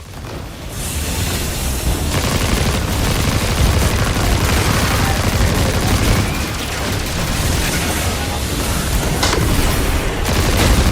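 Dense, continuous sniper gunfire and heavy booming blasts from a Destiny 2 firefight fill the whole stretch, loud and unbroken with no talk over it.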